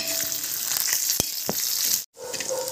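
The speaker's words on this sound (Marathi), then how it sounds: "त्यानंतर ह्याच्यामध्ये आलं लसूण घालूया आणि ते चांगलं भाजून घेऊया" Ginger and garlic fry in hot oil in a pan alongside dried red chillies for sambar, giving a steady loud sizzle with a few sharp stirring clicks and a brief gap near the end.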